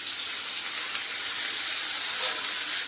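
Water poured onto a hot oiled tava griddle hisses and steams in a constant bright rush, close by and fairly loud, swelling slightly near the end.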